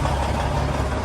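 A Freightliner Classic truck engine idles close by, a steady, low, constant rumbling drone with no changes in pitch and no voices.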